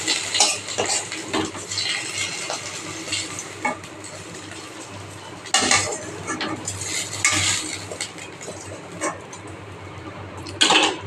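Small fish frying in a pan, with a low, continuous sizzle broken by repeated scrapes and clinks of a utensil against the pan at an uneven rhythm, close by and with no talk.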